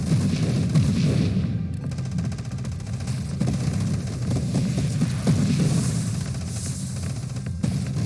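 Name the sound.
turret missile fire in video game Nova Drift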